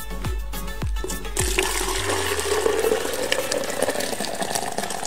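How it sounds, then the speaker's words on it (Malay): Pineapple juice is poured steadily from a container into a jug, giving a continuous rushing, gurgling liquid sound after a few low knocks at the start, close and fairly loud with no talking. "Kita tuang dulu dalam jug lah ya."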